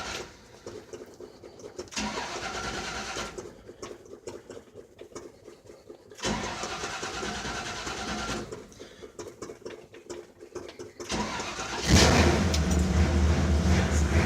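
A 1969 Chevrolet C10 pickup engine cranks and catches, then settles into a steady idle, with bursts of revving and a louder surge near the end, close and alone.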